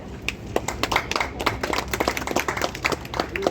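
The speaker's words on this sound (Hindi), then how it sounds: "ताली मारिए, ताली मारिए सब लोग।" Dense group clapping from everyone gathered at a height rescue training session, many hands striking in a fast irregular patter that runs steadily throughout, fairly close and loud.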